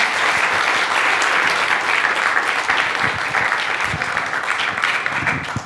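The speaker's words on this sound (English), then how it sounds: "Can we have one more round of applause and then we'll have questions?" Sustained applause from a seated audience at a youth climate-action panel talk, dense steady clapping that stays loud throughout with no voices over it.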